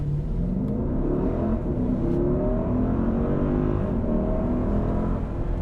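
A 2021 Mercedes-Benz GLS 580 4Matic launches hard, its engine and exhaust roaring loud and close as the pitch climbs steadily through the gears with no talking over it.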